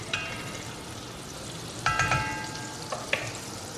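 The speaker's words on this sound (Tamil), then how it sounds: "நம்ம மசாலா எல்லாமே நல்லா கொஞ்சம் சிசில் ஆக ஆரம்பிச்சிருச்சு." Whole spices (cumin, fennel, two cinnamon sticks and two cardamom pods) sizzle in butter for a paneer curry, a steady close frying hiss broken by a few sharp metallic clinks of a utensil against the pan, with no talking.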